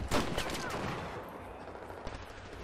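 Video game gunfire opens with a loud automatic burst, then trails off into echoing, rumbling shots and distant fire over a couple of seconds, with no speech.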